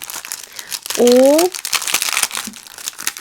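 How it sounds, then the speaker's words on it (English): A clear plastic packaging bag from an art supply store crinkles loudly in one short burst, under a person talking about art materials. "one of those clear plastic bags that you can buy in the art supply stores"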